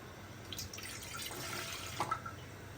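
Water pours into a glass in the kitchen, a faint continuous trickle with small splashes and a couple of brief clinks near the end.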